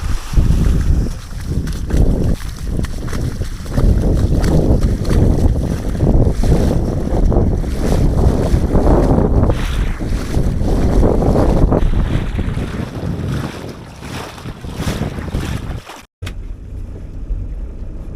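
A fishing boat just launched out of Port Logan in southwest Scotland in February rides the water under heavy, constant wind buffeting the microphone, with a steady rushing roar of waves and engine and no voices.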